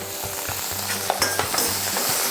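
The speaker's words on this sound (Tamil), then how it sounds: "நம்ம கட் பண்ணி வச்சுருக்கக்கூடிய அந்த பச்சை மிளகாவை நம்ம போட்டு அதையும் வதக்கிடுவோம்" Green chillies and cumin sautéing in a pan, a continuous close sizzle with repeated light scrapes and taps of a stirring spoon.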